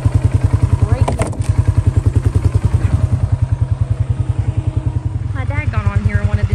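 A tractor engine runs steadily up close with a fast, even chugging pulse throughout, while a person talks briefly over it.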